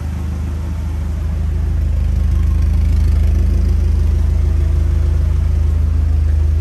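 A Mazda Miata with a limited-slip differential runs with both rear wheels spinning, giving a loud, close, steady engine drone that swells slightly in the first second and then holds even.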